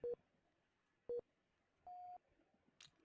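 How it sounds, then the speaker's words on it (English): Countdown timer for the planning phase of an X-Wing miniatures match: three short electronic beeps spaced about a second apart, the last one longer, clear and close in a quiet room. "That countdown you heard was the planning phase timer."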